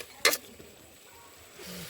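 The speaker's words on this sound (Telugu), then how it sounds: "బాగా మిక్స్ చేసుకోవాలి." A spoon stirs turmeric into tomato rice in a pan, giving one sharp scrape against the metal followed by faint sizzling and soft clinks near the end.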